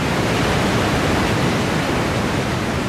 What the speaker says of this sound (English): the largest waterfall in the world